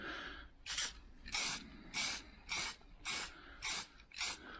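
A rattle can sprays a light dust coat of paint onto a Ford Fusion panel in seven short, evenly spaced hissing bursts, close and clear, with no talking.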